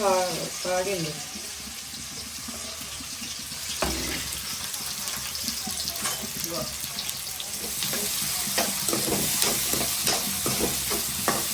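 Onion and green chillies frying in a pan on a village stove, a steady close sizzle with stirring and scraping clatter throughout and speech over it.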